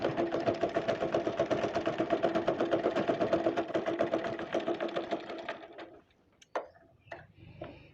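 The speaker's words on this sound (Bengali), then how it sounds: "আমি সেলাই দিয়ে নিয়েছি। সেম একইভাবে আমি আরেকটি মুহুরিও সেলাই করে নেব।" A sewing machine stitches the cuff of a salwar pant with a fast, steady, rhythmic whirring clatter for about six seconds, then stops, followed by a few faint clicks and handling sounds.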